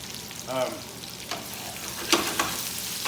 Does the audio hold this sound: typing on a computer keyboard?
no